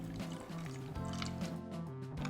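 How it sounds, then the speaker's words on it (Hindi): Water poured into a pressure cooker holding soaked moong and dalia, giving a quiet, close liquid splashing and gurgling that runs for a couple of seconds. "और अब इसमें मैं ऐड कर देती हूँ 2 कप जितना पानी।"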